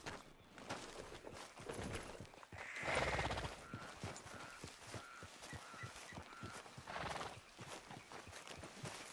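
Horse hooves clip-clop at a steady walking rhythm in Red Dead Redemption 2, close and clear, with a couple of louder neighs or whinnies rising over the hoofbeats.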